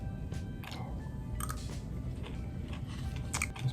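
Crunchy buckwheat-flavoured chocolate is chewed close to the mic, with soft steady crunching and a few sharper bites over a quiet background.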